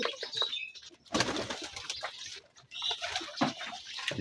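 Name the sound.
pigeon cooing and flapping wings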